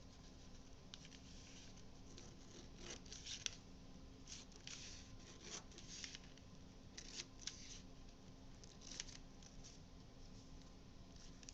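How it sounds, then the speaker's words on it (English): Scissors cutting along the side of a picture mount, roughly a quarter inch in from the edge, give faint, steady patter-like snips and rustles with small clicks throughout, close by and quiet, with no talking. "Now we're going to cut along the side here."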